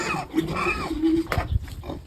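Pigs and piglets in a piggery grunt and squeal close by, a continuous run of oinks and snorts with a voice talking over them.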